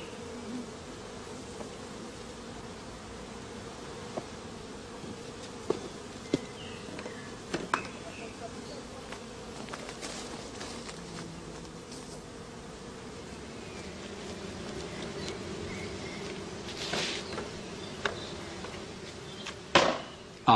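A swarm of honey bees in a swarm box drones in a steady, dense hum throughout, with occasional closer buzzes and light knocks over the continuous buzzing.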